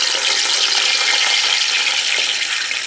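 Rohu fish fries in hot mustard oil in a wok out in a mustard field. A loud, steady, bright hiss of oil sizzles without a break and crackles a little now and then, with no voices.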